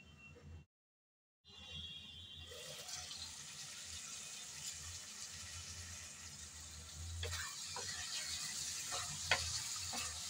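Dried poa fish cooks under a lid in a pan, giving a steady, soft sizzle and bubbling hiss that grows slightly louder after a brief silent gap, with occasional faint clicks and no speech.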